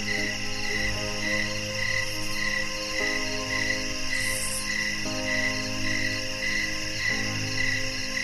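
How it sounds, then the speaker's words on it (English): Crickets chirp steadily through a summer night, several high pulsing trills layered together in a continuous chorus, with no voices. "the sounds of crickets"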